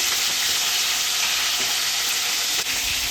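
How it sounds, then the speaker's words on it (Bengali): Pomfret fish fry in hot oil in a wok, giving a loud, continuous close-up sizzle with faint crackles throughout and no talking. "তেল গরম হয়েছে, এবার আমি এক এক করে মাছগুলোকে ভেজে"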